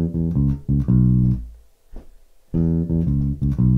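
A slowed-down bass riff, played as clusters of short, loud, plucked electric bass notes separated by a pause of about a second, with no voices.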